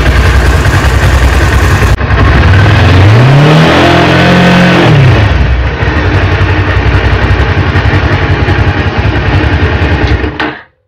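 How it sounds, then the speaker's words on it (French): A Honda CB500 motorcycle engine cranks, catches and revs up and down loudly up close, then settles into a steady idle before cutting off abruptly at the end. "Donc je mets le contact, j'appuie sur le démarrage."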